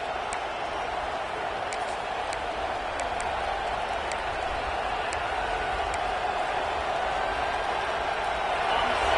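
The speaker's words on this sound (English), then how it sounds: "And this crowd coming to life here trying to help the defense get a stop with the offense pinned back." A football stadium crowd at a playoff game roars in a broad, continuous wash of cheering and noise, with faint sharp claps or bangs scattered through it.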